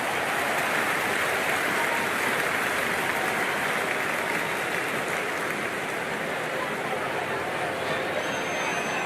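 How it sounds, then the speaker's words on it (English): Dense, continuous stadium crowd roar during a simulated India versus Australia T20 World Cup cricket match in Cricket 24, holding a loud, even wash for the whole stretch with a commentator's voice faintly underneath. "The crowd is electric right now."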